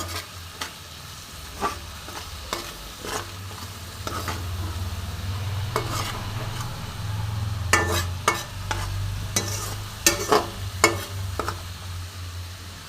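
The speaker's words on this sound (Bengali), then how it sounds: "এখন একটু জল দিয়ে আর ফ্লেমটা একটু বাড়িয়ে দিলাম। খুব সুন্দরভাবে একটু কষে নেবো।" Spices and cabbage sautéing in a pan after a splash of water with the flame raised: a low steady sizzle under irregular scraping stir strokes of a spatula, close and moderate in level.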